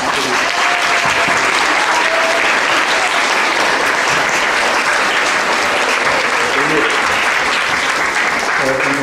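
Loud, dense applause from an audience greeting newly proclaimed members of a youth city council, steady sustained clapping that fills the room throughout with no pauses.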